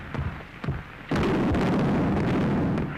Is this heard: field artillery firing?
yes